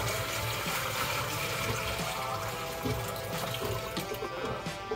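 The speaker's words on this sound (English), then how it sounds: "All right, so we've got some of my water dumped out." Water pouring and splashing out of an aquarium tank during cyano algae cleanup, a steady, fairly loud continuous gush with gurgling bursts, no voices.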